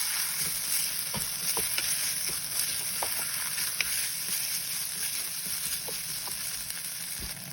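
A stir-fry with chili sizzles steadily in a hot pan, with a constant close frying hiss and occasional soft scrapes and taps from stirring.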